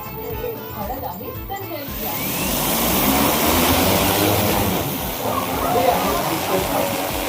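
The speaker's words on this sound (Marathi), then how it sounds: "आता ड्रोन उडवायचा आहे" An agricultural spraying drone takes off over a sugarcane field. A broad, steady rotor whir and hiss swells in after about two seconds and stays loud and even through the rest of the clip.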